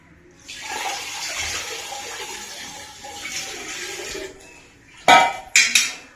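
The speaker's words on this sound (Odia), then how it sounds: "ଫାଷ୍ଟ ଦହିରେ କିଛି ପାଣି ଦବା" Water poured into curd in a kitchen bowl for Odia tanka torani, a steady splashing pour for several seconds, followed by a few sharp clinks of a vessel near the end.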